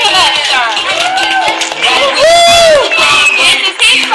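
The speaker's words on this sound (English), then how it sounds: "So let's give her another big round of applause" A church crowd at Vacation Bible School cheers and whoops for a child, excited children's shouts and voices loud and close, with clapping blended into the noisy crowd.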